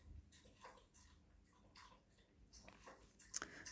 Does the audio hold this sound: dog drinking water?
yes